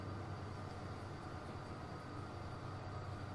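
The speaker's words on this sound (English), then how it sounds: "There we go, there's another train." A train on a UK main line rolls past in the railway simulation game Transport Fever 2, a faint, steady rumble of wheels and carriages that stays even throughout without any voices.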